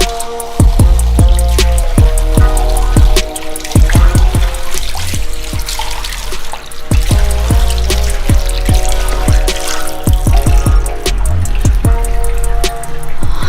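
A tap runs steadily into a sink while a banana face mask is rinsed off, a loud close stream broken by frequent splashes and drips as hands scoop and splash water. Nobody speaks.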